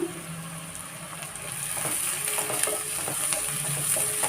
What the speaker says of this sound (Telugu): ఆనియన్ మంచిగా ఫ్రై కావాలి.